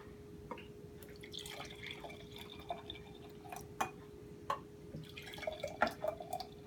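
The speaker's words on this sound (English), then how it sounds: "let's pour a couple glasses of this stuff." Freshly made carrot juice pours from a home juicer into a couple of glasses, with soft dripping and trickling splashes that come close and fairly quiet over a steady low hum.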